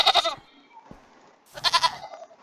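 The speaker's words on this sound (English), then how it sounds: "Goats scared me." Goats in a survival video game give two loud, close bleats separated by a short pause.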